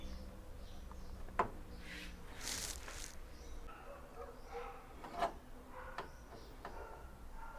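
A spark plug wrench turning and tightening a spark plug into its threaded seat, giving faint ratcheting ticks and scraping rubs, with a couple of sharper metallic clicks, quiet and close with no talking.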